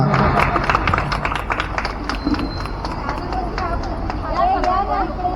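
An audience claps at an Ambedkar Jayanti celebration, quick scattered claps amid crowd chatter, with voices talking throughout.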